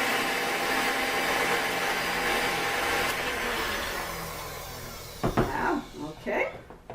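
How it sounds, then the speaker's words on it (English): A food blender whirs steadily, blending homemade hummus of chickpeas and lemon juice, a continuous loud motor drone for about five seconds that then stops, followed by brief clatter and speech-like sounds. "let's blend it a little bit more"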